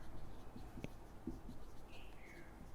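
Quiet scratching of pen or chalk writing during an organic chemistry lecture on carbon NMR spectroscopy, a few soft strokes and taps in a faint, hushed room.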